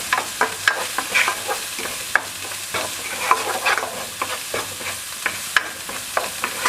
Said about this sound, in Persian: اینا هم قشنگ تفت میدیم تا به خورد هم برن و حسابی سرخ بشه.